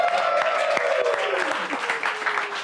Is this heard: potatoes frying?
no